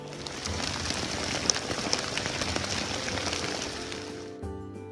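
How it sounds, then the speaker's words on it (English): Steady wind and rain hiss around a paddler on open water during a long-distance paddling trip, a dense continuous wash of noise that cuts off abruptly near the end. "Kind of difficult paddling now in this wind and rain"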